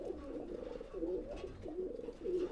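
Teddy 128 pigeons coo in a steady series of low, throaty rolling calls, close and fairly soft, with no talk over them.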